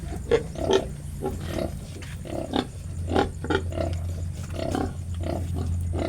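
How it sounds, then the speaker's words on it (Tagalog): Piglets suckling from a sow at feeding time, a steady chorus of soft grunts and squeals repeating in bursts over a constant low hum, close and moderately loud, with no talking. "Kawawa na yung kanilang nanay dahil malalaki na itong mga biik."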